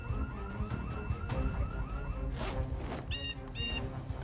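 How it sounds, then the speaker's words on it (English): Inside a video game, an ambulance siren wails in repeating rising and falling sweeps, then changes to a different high-pitched tone, moderately loud over background game noise. "I still can't see the fucking ambulance"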